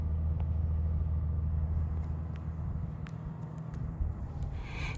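A car engine starts and settles into a steady low idle, a continuous close rumble with a few faint clicks on top and no talking.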